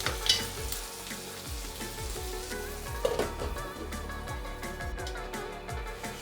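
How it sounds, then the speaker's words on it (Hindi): Fiddlehead fern curry simmering covered on low heat in a pan, a steady soft sizzle and bubbling with faint clicks and pops throughout, no voices. "और इसको धीमी आंच पे 10 मिनट के लिए ढक के रख देते हैं।"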